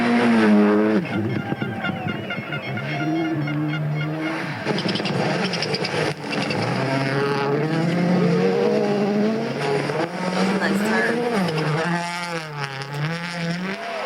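A WRC rally car's engine at Rally Portugal 2023, loud and close with rising and falling revs over the full stretch, mixed with excited talk from nearby spectators.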